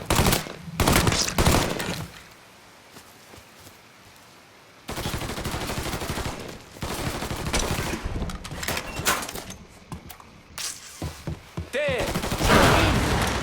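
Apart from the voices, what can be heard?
gunfire in the video game Mafia III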